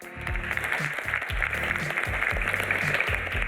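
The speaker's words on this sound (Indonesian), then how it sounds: "boleh tepuk tangan buat kita semua" An audience clapping together at an Indonesian religious talk show, a continuous busy patter of hands over a rhythmic musical backing, fairly loud and sustained.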